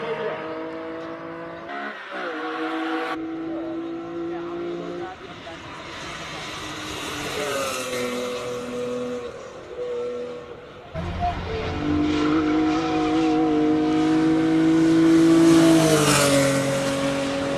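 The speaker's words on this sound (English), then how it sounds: "Here come a host of V8s, Shelby Cobra" Several V8 Shelby Cobra cars, including a 2001 five-litre recreation, race past at a classic car speed event in Cape Town, engines roaring loudly as they approach and recede in successive waves.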